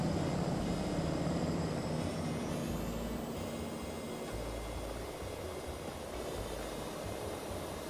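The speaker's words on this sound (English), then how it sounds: "I can't get the reversers off." Airliner thrust reversers roaring in a flight simulator game, a steady loud broadband rumble with a whining tone that slides upward, fading only slightly over several seconds and with no talking.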